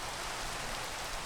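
Rain falling in Minecraft with a shader pack, a steady soft hiss of dense drops, faint and even with nothing else over it.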